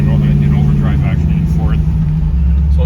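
A 1981 NASCAR car with a 416 stroker LS3 engine is driven in drive and overdrive, giving a loud, steady engine drone and cabin rumble throughout.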